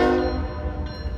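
An empty freight train on its backhaul run from Winchester sounds a sustained, chord-like horn blast, fairly loud and steady before easing off toward the end, with a low rumble beneath.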